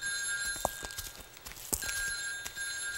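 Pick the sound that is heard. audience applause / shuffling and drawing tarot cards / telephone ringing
telephone ringing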